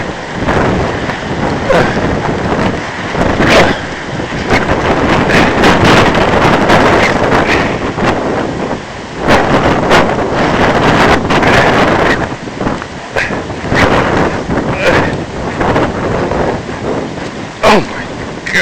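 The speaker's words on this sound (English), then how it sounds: "Very windy. The snow has stopped though." Heavy wind roars and gusts during a snowstorm on impassable snowy city streets, loud and continuous with sharp buffeting bursts against the microphone and no talk.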